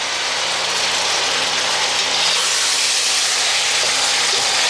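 Filipino-style spaghetti sauce with ground beef simmering in a pan, a steady dense hiss and sizzle that runs unbroken and fairly loud throughout, with no talking.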